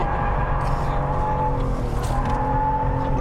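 A Toyota Mark X GRMN, a rear-drive car fitted with a limited-slip differential, is driven hard and drifted, its engine droning and revving loudly throughout with bursts of tire noise, heard from inside the cabin.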